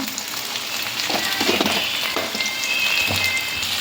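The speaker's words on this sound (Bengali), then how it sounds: "তো আমি এখন টমেটোটা অ্যাড করে দেবো। টমেটোটা একটু ভাজা ভাজা হোক।" Chopped tomatoes fry with onions in a pan for chicken kosha, making a continuous close hiss and crackle with some soft stirring scrapes; no speech.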